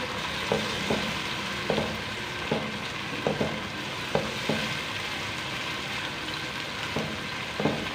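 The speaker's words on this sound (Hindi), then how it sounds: "लहसुन अदरक का पेस्ट, एक मिनट के लिए अच्छे से भुनाई कर लेंगे।" Steady broadband sizzle of ginger garlic paste frying in a hot pan, with occasional soft clicks of a spoon stirring, no voices.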